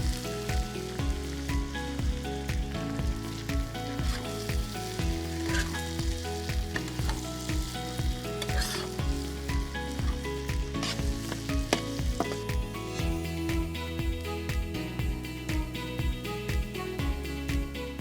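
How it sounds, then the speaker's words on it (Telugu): Finely chopped onions fry in oil with cardamom, black cardamom and cinnamon for chicken malai keema. A continuous sizzle runs under prominent rhythmic background music. "ఉల్లిపాయ ముక్కలు నూనెలో చక్కగా వేగుతున్నప్పుడే"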